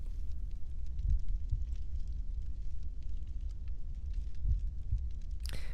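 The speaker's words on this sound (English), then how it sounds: "Hear that heartbeat there in the background?" A muffled heartbeat throbs low and soft under a droning ambience in The Longest Journey, with a few distinct thumps spaced apart and a brief brighter burst at the very end.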